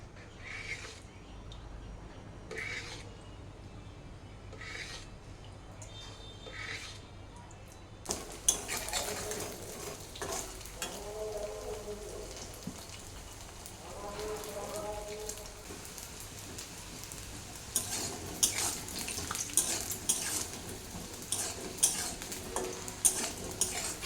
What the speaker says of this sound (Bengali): এটাকে এবারে আমি ডিপ তেলে ফ্রাই করে নেব